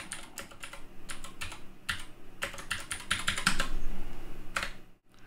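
Commands are typed into a terminal on a computer keyboard, a quick, close, uneven patter of key clicks and heavier thumps from longer keys, with no talking over it.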